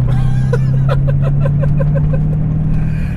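A 1988 Callaway Twin Turbo C4 Corvette engine runs at a steady, loud idle, with a deep, even drone and light rhythmic pulsing throughout.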